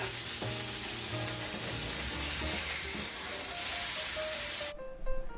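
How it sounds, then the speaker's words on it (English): Offal burger patties fry in a pan with a constant, even sizzle and hiss close by, faint tonal hum underneath, cutting off abruptly near the end. "And then carefully flip them to cook them about the same amount of time on the other side."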